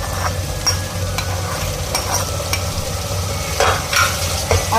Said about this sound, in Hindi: अब हम इसको भून लेंगे